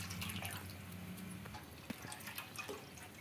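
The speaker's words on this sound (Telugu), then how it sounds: "ఇక్కడైతే కొద్దిగా హీట్ అయిన తర్వాత అయితే వాటర్ అయితే వేసుకుందాం చూడండి." Water poured into a heated, greasy old kadai on a stove gives a faint, steady trickle with a few small drips and splashes, close by and with no voices.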